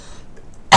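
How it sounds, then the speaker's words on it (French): A single sharp cough bursts out loudly and close after a near-silent pause. "c'est aussi une toux"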